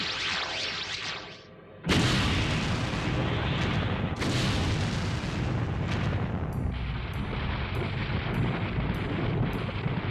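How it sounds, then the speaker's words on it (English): Loud anime-style explosion effect of a reactor overloading beneath a base: sudden booming blasts and continuous roaring rumble, with a second burst midway and rapid repeated crackling bursts toward the end. "By causing the reactor under the base to overload, First Lieutenant Hayase had enabled us"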